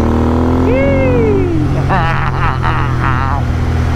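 A Royal Enfield Interceptor 650 motorcycle revs, its engine tone rising then falling, followed by a few quick throttle blips. Loud wind noise runs underneath.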